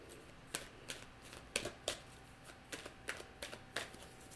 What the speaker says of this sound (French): Je vais prendre juste une carte.